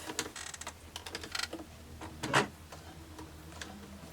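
A sewing machine stitches fabric along a curve for makeup wipes, giving close, quick mechanical ticking in short bursts with pauses between runs.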